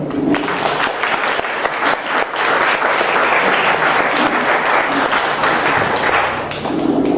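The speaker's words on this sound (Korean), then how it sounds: "이 두 분에게 일단 환영의 박수를 드리겠습니다" An audience at a Korean fan meeting with David Chiang applauds to welcome two guests, a dense, steady wash of clapping from a full room, loud and continuous with no talk over it.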